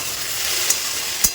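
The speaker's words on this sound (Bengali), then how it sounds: "ভেন্ডি ভাজা হচ্ছে।" Okra (bhindi) frying in a pan makes a steady close hiss of sizzling oil, broken by two brief faint clicks.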